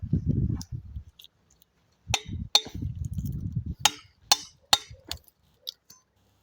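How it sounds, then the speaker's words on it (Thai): Hammering a cutting into a salak palm trunk: a handful of sharp, irregular knocks ring out close by, separated by low rumbling handling noise and short pauses. "ตอกเข้าต้นได้นะครับ ตอกเข้าต้นแม่มันนะได้เลย"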